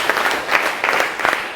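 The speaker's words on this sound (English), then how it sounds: "If you can hear the sound of my voice, clap 4 times." Students in a first-day STEM class clap together in unison on cue, a short run of sharp group claps in a steady rhythm filling a small room, heard without talk.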